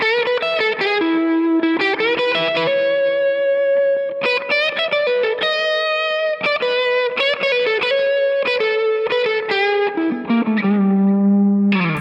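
Distorted electric guitar plays a minor pentatonic lead, a loud, sustained run of bent and picked notes with heavy effects and no voice.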